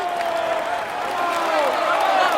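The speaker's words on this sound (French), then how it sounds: "Mesdames et messieurs, applaudissez-le bien fort." A crowd cheers and applauds the stage winner on the Champs-Élysées in the Tour de France 2016 video game, a dense, continuous wash of clapping that holds steady and swells slightly toward the end.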